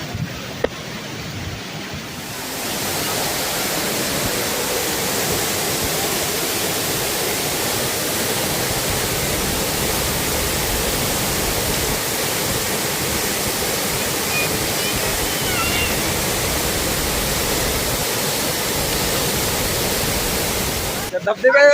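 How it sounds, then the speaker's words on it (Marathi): A waterfall pours down nearby in a constant broadband roar that swells in after a couple of seconds and holds steady and loud, a hiss of falling water filling everything. "मस्त अशी पाणी पडत आहे आणि छान असा धबधबा माग आहे."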